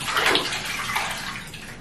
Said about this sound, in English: we're just gonna get you in the tub